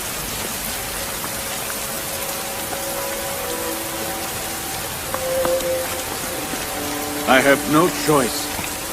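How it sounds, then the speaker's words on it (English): Steady rain falls as a constant wash of hiss in an ancient biblical-era drama set in Haran, with faint tones beneath it and a brief voice near the end. "The auspicious birth of your baby brought rain to Haran."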